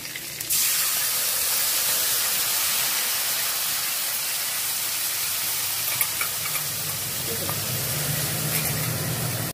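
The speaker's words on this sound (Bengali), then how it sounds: "তেল তেতে গেছে, আমি এবার আদা জিরেটা দিয়ে দিলাম।" Ginger and cumin drop into hot oil and set off a loud, continuous sizzling hiss that starts abruptly and holds steady and close for the whole stretch.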